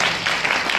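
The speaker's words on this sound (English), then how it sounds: "I just want to give this room a round of applause" Brief, steady applause from a room of people at a university administrators' meeting, dense clapping throughout the short moment.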